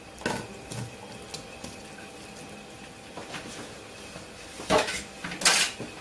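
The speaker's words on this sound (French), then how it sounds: "Je vais les replacer dans le récipient." Drained cauliflower and vegetables tipped back into a container in a kitchen, with scattered clinks and scraping of dishes and utensils, a couple of louder clattering bursts near the end, and no talking.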